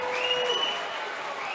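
Fans at a high school girls' volleyball match between Wausau West and Wausau East, applauding and cheering on their team, a steady wash of clapping with a tone underneath, fading slightly toward the end.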